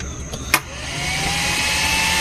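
After repair, a 38000W mini inverter's blower fan spins up with a click and settles into a steady, close whirring hum that rises slightly in pitch.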